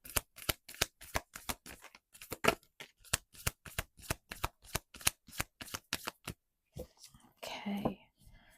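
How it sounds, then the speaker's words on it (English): Angel oracle cards being riffled and flipped through a deck, a rapid run of crisp, close slapping flicks at a steady pace that picks up speed, followed by a brief rougher shuffle of the cards at the end. "cards are flipping back on themselves today. Trying to get out of the deck faster and faster."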